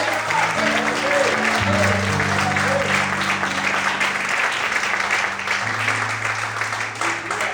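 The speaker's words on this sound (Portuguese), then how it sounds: "Quantos podem aplaudir e exaltar o Senhor nessa manhã?" A church congregation at a morning service claps steadily and fills the room, sustained applause lasting several seconds over low held organ or keyboard tones.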